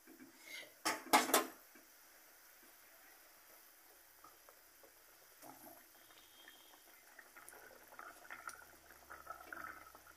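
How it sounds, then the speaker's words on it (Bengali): Fish curry gravy simmers in a pot with soft, quiet bubbling, opening with a couple of sharp pot or utensil clanks, then a low steady burble with small pops. "ঝোল ফুটে উঠেছে"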